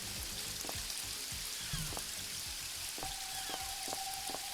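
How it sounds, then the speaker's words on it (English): Rain in the video game Paradise Killer keeps up a soft, steady patter and hiss, with faint tonal game sounds and low thuds under it, no voices. "Oh, it's raining."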